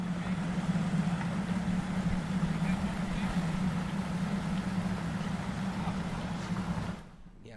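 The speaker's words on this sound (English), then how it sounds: "you can tell when a speedboat goes by or a boat that's pretty fast. You can hear that rumble." Four outboard motors on a speedboat rumble past near Metro Beach, a loud, steady low drone that holds for about seven seconds before dropping away abruptly.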